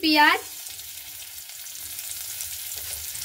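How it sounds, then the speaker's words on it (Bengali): Chopped onion fries in hot oil while being stirred, making a steady moderate sizzle after a short burst of voice at the start. "পেঁয়াজটাকে দিয়ে একটু ভালো করে নাড়াচাড়া করে নিচ্ছি।"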